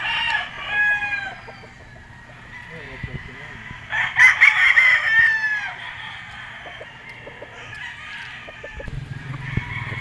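Red Kelso gamecock rooster crows repeatedly at a game farm sale, loud and close, with one longer crow standing out in the middle amid faint background activity.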